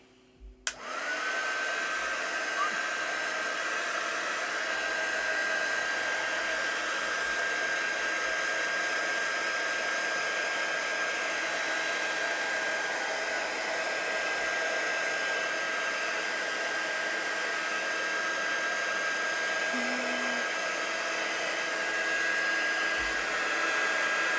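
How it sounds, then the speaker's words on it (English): A heat tool runs continuously for most of the stretch, drying a painted background on a floral painting, a steady loud blowing roar with a constant whine, starting abruptly after a brief click. "I have this heat tool to dry the background so we can do florals on top"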